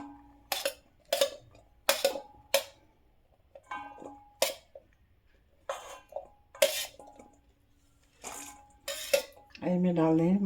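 Pickle of carrot, radish and green chilli is tipped into a metal pot, giving a series of sharp clinks and scrapes of a spoon on metal with pauses between, ending in a short burst of voice.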